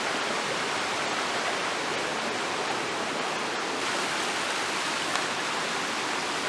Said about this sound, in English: this is where Cheeseman Run flows into Slippery Rock Creek